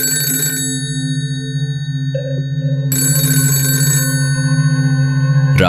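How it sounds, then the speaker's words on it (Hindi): A telephone rings in a horror cartoon, sounding in repeated bursts over a steady electronic drone and low hum, loud and close, with no voices. "3:07 पर फोन बजा।"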